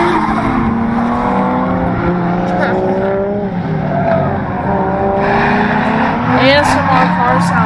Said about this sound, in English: ASMR car sounds once again.